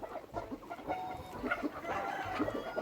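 Free-range chickens on a forest farm cluck repeatedly in short, uneven calls, with scattered overlapping clucks near and farther off over faint outdoor background.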